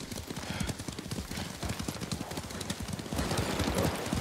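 Horses' hooves clip-clop steadily on a path in the video game Ghost of Tsushima, a brisk continuous trotting rhythm of close, even hoofbeats with low ambient game sound underneath.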